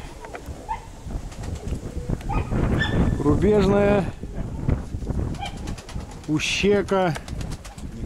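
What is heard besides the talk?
pigeons being raised into flight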